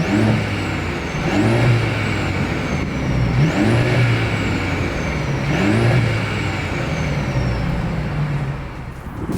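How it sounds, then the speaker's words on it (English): Exhaust of a 2026 Mercedes-Benz CLE 300 coupe with dual exhaust, heard up close as the engine revs repeatedly in rising and falling pulls over a steady idle, with no talking. "As always, here is that exhaust clip."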